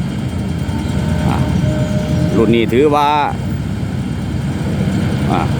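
A water pump driven by an Isuzu engine, the Mak Fai model, runs with a steady, loud low rumble, heard under someone speaking nearby on a pond-filling job.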